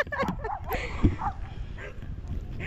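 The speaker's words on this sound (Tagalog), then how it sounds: "Sila ba talaga ta mga aso niyo?" Several dogs bark nearby in short, quick bursts mixed with yips and a whimper, while people talk over the commotion.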